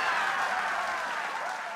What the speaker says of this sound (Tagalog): Bigyan mo ako ng palakpak.